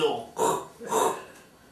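Two loud, drawn-out belches in quick succession from a person indoors, each swelling and fading over about half a second, followed by a fainter third sound.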